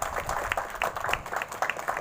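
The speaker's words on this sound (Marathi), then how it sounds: "आपण टाळ्या वाजवून" A ceremony audience claps for a few seconds, light and scattered rather than thunderous, with sharp individual claps standing out over a murmur of voices.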